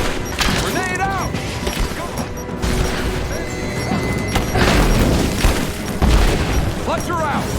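A heavy grenade blast booms in the video game Rise of the Tomb Raider amid gunfire crackle and clattering impacts, several deep rumbling hits spread across the scene while character voices shout over the action.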